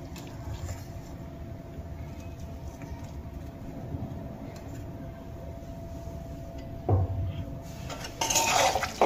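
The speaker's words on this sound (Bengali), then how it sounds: "ধনেপাতা কুচি খুব ভালো করে আমি আলু আর বেগুনের সাথে মিশিয়ে নিয়েছি।" Chopped fresh coriander is mixed into a potato and eggplant curry in a pan off the heat. A quiet background gives way to a few clinks and scrapes of a spoon against the pan near the end.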